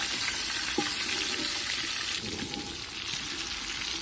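Fish frying in a pan, a steady broadband hiss and crackle of hot oil that stays loud and continuous throughout, with a brief clink near the start and no one speaking.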